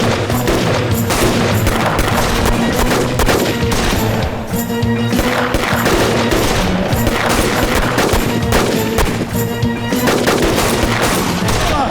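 Loud, sustained gunfire: rapid bursts of shots rattling almost continuously, with a brief lull partway through and a low steady hum underneath.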